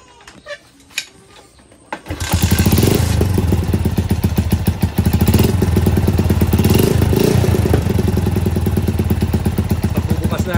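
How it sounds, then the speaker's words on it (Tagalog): A small 110cc underbone motorcycle fitted with a rapid-backfire muffler, first a few scattered pops and clicks, then the engine roars loud and close, running hard with crackling exhaust bursts throughout. "yan ang ating gagayahin ng tunog ng ating muffler"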